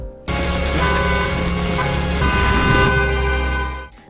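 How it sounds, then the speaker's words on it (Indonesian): A car horn blares in one long continuous honk lasting several seconds, loud and close, cutting off abruptly at the end. "terdengarlah suara klakson dari Jungsu"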